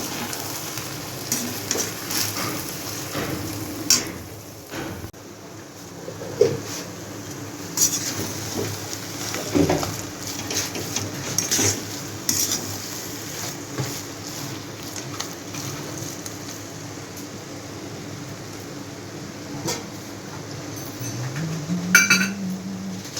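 A ladle stirring a rohu fish head and puffed rice curry in a pot over low heat, with steady frying sizzle underneath and frequent light clinks and scrapes of metal on the pot throughout, close and continuous, no talking.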